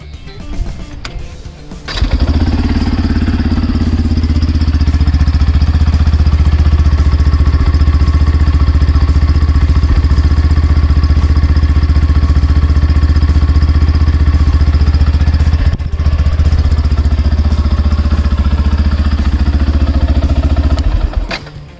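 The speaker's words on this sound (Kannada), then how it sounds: "ಇನ್ನು ಒಂದು ಎಕ್ಸಾಸ್ಟ್ ನೋಟನ್ನು ನಾವು ಕೇಳಿಸ್ಕೊಳ್ಳೋಣ ಬನ್ನಿ." A Yamaha FZ-S Fi V3 BS6 motorcycle starts and idles with a steady, smooth exhaust note close by, then a brief blip midway before settling again and shutting off near the end.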